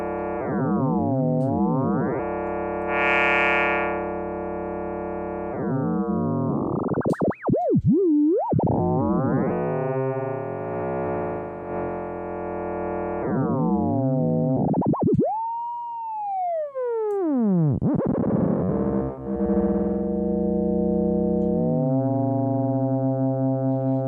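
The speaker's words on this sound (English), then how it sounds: "as we spin this pitch around faster and faster and faster," An audio effect spins a tone's pitch around faster and faster, so dense harmonic tones sweep, wobble and bend as new tones develop, with abrupt shifts and a swooping glide along the way, loud and with no voice.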